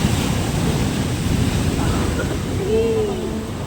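Sea waves washing in at Mandarmani beach make a continuous broad rushing roar that swells slightly near the end, mixed with wind buffeting the microphone and a faint voice underneath.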